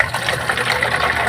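Plain stored water poured into a container to make a natural spray for seedlings, heard as a steady, close splashing pour with no talking.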